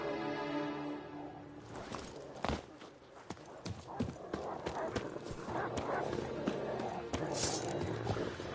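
Roach, the horse in The Witcher Wild Hunt, clip-clops in quick irregular hoofbeats across the ground, fairly close, with voices speaking over parts of the run.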